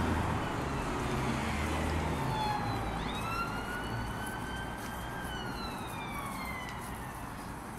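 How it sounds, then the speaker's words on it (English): An ambulance siren passes along a street in Bolton, its wailing tone sweeping up and down above steady traffic and town noise, fairly close at first and then gradually fading. "And we have an ambulance."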